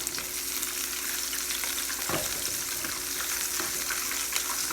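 Canned green tomatoes fry in a pan with an even, steady sizzle held at close range, broken by a soft knock partway through and with no voices.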